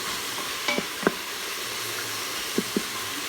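Garlic frying in a pot for chicken chili, a soft steady sizzle with a few sharp stirring clinks and scrapes scattered through, fairly quiet and close, no voices.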